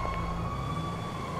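A fire truck siren in the video game GTA 5, a steady high wailing tone held throughout, moderately loud, without any talking.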